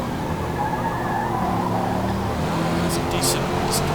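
Race cars, including a Nissan Pulsar GTI and a Mazda, run close together in Forza Motorsport, a dense continuous engine roar with faint tyre squeals near the end, heard steadily under a commentator's talking.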